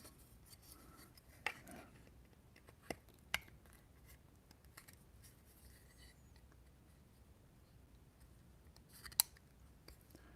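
Metal snips cutting through material while a Corvair backseat is cut out, producing a few sharp isolated snips and crunches over a quiet workshop background, with no talk.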